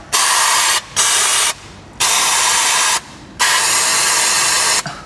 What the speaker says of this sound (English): If you have some brake clean, just go ahead and spray